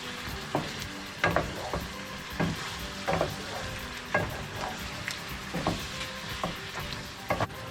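Chicken curry masala sizzles and fries in a pan while a spoon stirs it, scraping in repeated strokes roughly every second over a steady close crackle.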